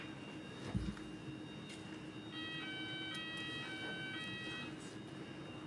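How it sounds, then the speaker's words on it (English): A fire alarm goes off in a UK Covid-19 Inquiry hearing room, a steady electronic tone pattern rising over the quiet room hum for a few seconds at moderate loudness. "I was told there wouldn't be a fire alarm today."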